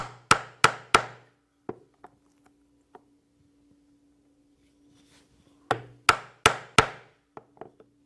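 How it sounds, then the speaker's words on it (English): A 3/4 inch oblong leather punch is struck with a mallet through leather, two bursts of three sharp, evenly spaced hammer blows separated by a quiet pause, with a few lighter taps after each set. "I will use the 3/4 inch oblong punch and punch the slot for the buckle tongue to come through"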